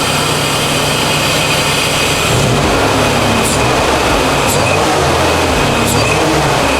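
Supercharged 3.4 engine swapped into a 1980 Toyota pickup, running close and loud at a steady rumbling idle with a dense low growl and a faint whine, unbroken for the whole stretch.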